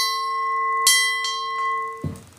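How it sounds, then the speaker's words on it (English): A handmade bell is struck metal against metal, giving a bright ringing strike with a sustained tone, followed by softer repeat taps and a duller knock at the end. "I've also used metal against metal in the bell."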